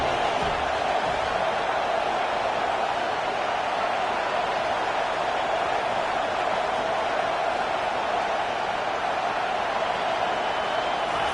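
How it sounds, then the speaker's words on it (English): A dense roar from a football stadium crowd during third-down defense holds steady and loud throughout, a wide wash of cheering noise with no distinct individual voices. "Decibels rising as the crowd gets behind this defense on 3rd down"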